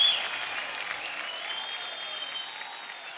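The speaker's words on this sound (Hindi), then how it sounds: "एक बार जोरदार तालियां हो जाए शक्ति जी के लिए और पत्नी जी के लिए।" Audience applause at a Bollywood event for actor Shakti Kapoor and his wife, a soft steady wash of many hands heard from a distance, fading slightly, with no talk over it.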